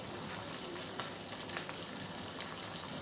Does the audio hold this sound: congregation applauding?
no